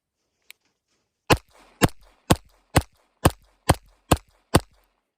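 Eight sharp, loud .45 ACP gunshots from a 1911 pistol ring out in a steady, evenly spaced string, each with a short echoing tail, after one faint click.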